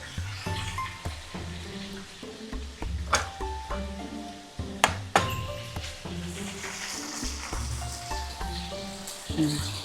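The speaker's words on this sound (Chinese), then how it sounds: "翻它一下，我们翻过来一下拿来炸过它一下" Chicken pieces for three-cup chicken fry in a pan, a steady close sizzle with crackling pops and occasional louder bursts as the pieces are turned, running throughout without talk.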